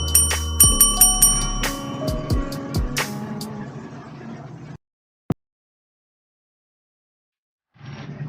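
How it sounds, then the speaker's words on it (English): A bicycle bell rings repeatedly in quick, bright dings, close and loud, lingering into a fading shimmer before silence and a single sharp click. "and the bell ringing."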